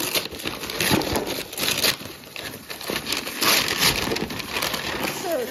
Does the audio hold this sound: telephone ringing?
no